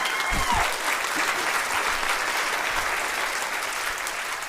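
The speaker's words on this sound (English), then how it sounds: "please give her a round of applause." Audience at a university state-of-the-university address applauds steadily, a dense even patter of many hands that holds at a fairly loud level for the full stretch with no talking over it.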